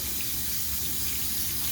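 Water runs steadily from a bathroom tap as it slowly warms up for shaving, a continuous close splashing hiss without a break or any voice.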